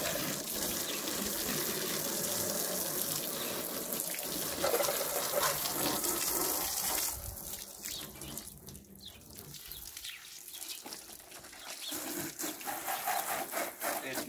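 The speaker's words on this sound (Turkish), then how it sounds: "Ben hortumu çekip geleyim. Ondan sonra başlayalım. Yıkamaya başlıyorum." Water from a garden hose sprays over a muddy Tofaş car during washing, a steady broad rushing hiss that shifts and breaks up as the spray moves across the body panels, close and continuous with no talk.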